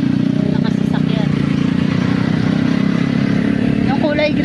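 A motorcycle rides behind a green car on a road trip toward the Agonsili river, its engine giving a steady, close drone throughout, with voices faintly present.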